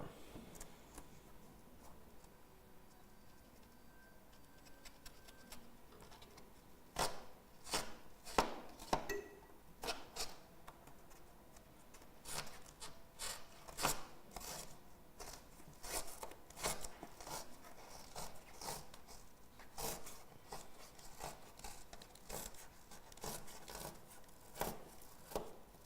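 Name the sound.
cutting foam during roof window installation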